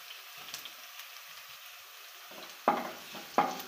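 Chopped shallots and garlic dropped into hot oil and frying, a faint low sizzle with a few sharper crackling bursts near the end, close, with no voices.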